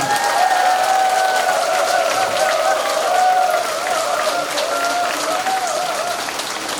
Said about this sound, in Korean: 총재님에게 여러분 감사의 박수를 한번 보내주십니다